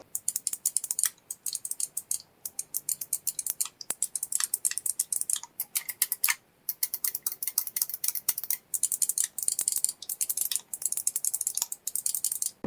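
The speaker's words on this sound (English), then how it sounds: "All the A, B, X, Y buttons, D-pad, shoulder buttons and triggers have that clicky feel, almost like a gaming mouse" NYXI Hyperion 2 controller for Nintendo Switch with mechanical face buttons, D-pad, shoulder buttons and triggers, pressed over and over in fast runs of sharp, crisp clicks, close up and alone, with brief pauses between runs.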